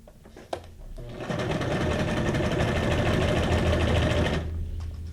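A sewing machine stitches through paper ephemera with flowers on it, starting after a brief pause and running steadily at close range for several seconds before stopping.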